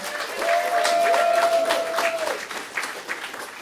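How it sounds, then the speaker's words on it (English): Steady applause from a crowd, building quickly and holding for a couple of seconds before tapering off, with a faint tone running beneath. "let's give them a round of applause"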